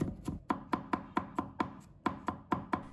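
A knife mincing garlic strikes a cutting board in quick, even, crisp taps, about four per second. The chopping is close and clear, with no voices.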